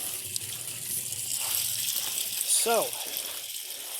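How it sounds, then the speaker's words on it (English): Water runs through a home hydroponic garden system, a continuous gushing trickle like a tap, with someone talking over it and a brief rising whistle-like sound near the end. "that is how you run your water"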